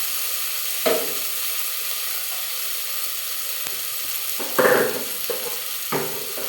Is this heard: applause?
no